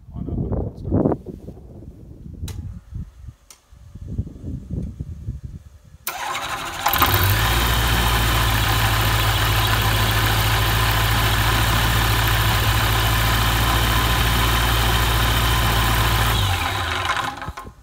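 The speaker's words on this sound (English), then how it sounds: "this is just a quick example of how the EFI starts on a cold start." A turbocharged EFI Rotax engine on a test stand cranks after two hours sitting, catches on a cold start and settles into a loud steady idle, preceded by clicks and handling noises, then cuts off.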